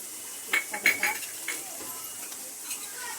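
Metal spoon scraping and clinking against a pan while ground coriander, turmeric, chili powder, Kashmiri masala and garam masala are stirred together for cashew curry; a few sharp clinks near the start, then softer scraping, with a voice speaking faintly in the background.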